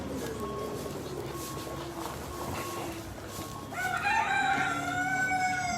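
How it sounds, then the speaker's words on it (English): Chickens and a rooster on a farm being shooed aside, clucking throughout, with a loud rooster crow bursting in near the end, close by. "So we're going to move the birds out of the way a moment."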